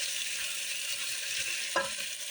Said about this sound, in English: I'm gonna get the sausage browned up.